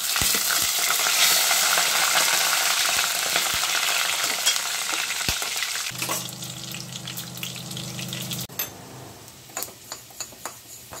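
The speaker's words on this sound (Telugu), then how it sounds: "మధ్య మధ్యలో మనం కలుపుతూ వేయించుకోవాలి" Amla and mustard seeds frying in a pan for pickle, a loud dense sizzle under steady stirring that suddenly thins out, followed by quieter crackles and sharp spoon taps against the pan.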